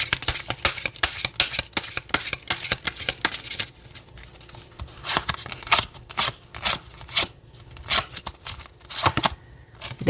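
Tarot cards being shuffled by hand, a dense run of rapid papery riffles and flicks close up, then slower separate slaps and snaps of cards, with no talking.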